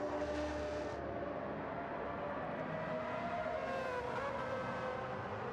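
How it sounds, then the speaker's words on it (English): Four-rotor Mazda 3 race car at Road Atlanta, its engine howling steadily through a pair of right-hand corners, a continuous loud rotary wail with shifting pitch and no talk over it. "Listen to that four-rotor howl as Fausto navigates 10A and 10B in that Mazda 3."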